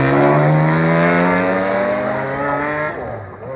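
Hyundai rally car at the Goodwood Festival of Speed hillclimb, a loud, close engine roar held steady for a few seconds before it eases off and fades at the end.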